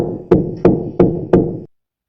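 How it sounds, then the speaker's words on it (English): Four evenly spaced, fairly loud knocks on a hard surface at night, about a third of a second apart, then silence. "That's knocking."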